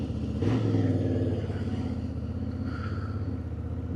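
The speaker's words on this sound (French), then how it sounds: "On va démarrer aussi la moto pour voir si on a un rendu son qui serait pas trop mal." A Honda Hornet 750 motorcycle engine, cold, turns over and catches, a steady low rumbling idle up close with a brief rise at the start.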